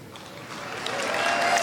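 An audience at a motivational talk breaks into steady applause, clapping that builds gradually and holds at a moderate level across the moment.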